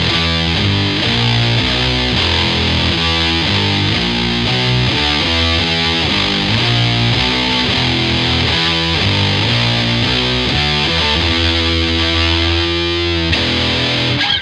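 An electric guitar plays a big, heavy riff through a prime distortion and whammy effect, a loud, fat, saturated tone of rhythmic chugging chords and bends that plays without stopping.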